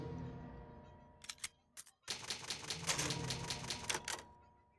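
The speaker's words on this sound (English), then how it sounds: "there's an old typewriter." Old typewriter in the Resident Evil video game clacks out a burst of sharp mechanical keystrokes, a few isolated taps first, then a dense rapid run of strikes that fades out at the end.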